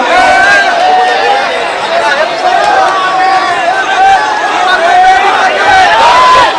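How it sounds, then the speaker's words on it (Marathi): A large, dense crowd murmurs and shouts at a hunger strike event in Maharashtra, a loud continuous babble of many voices close around, with individual calls rising and falling throughout. "या ठिकाणी गर्दी खूप आहे"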